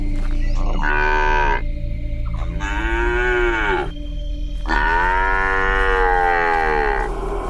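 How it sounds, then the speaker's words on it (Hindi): A calf moos three times in long, drawn-out bleating calls, close and loud, with short pauses between them and a steady background hum. "पीछे से एक बछड़े की आवाज सुनाई देती है"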